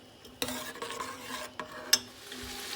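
A medium onion sautéing in melted butter over medium-high heat, with a soft low sizzle broken by a few sharp stirring clinks and scrapes of a utensil against the pan.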